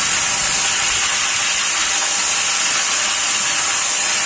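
Steady, loud sizzling hiss of taro root frying in hot oil on a high flame, continuous and close, with no talking.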